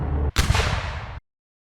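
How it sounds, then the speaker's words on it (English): A single booming cannon shot in a Hunger Games simulator: a short crack, then a heavy blast that rolls and fades over about a second before cutting off to silence. "One cannon shot can be heard in the distance."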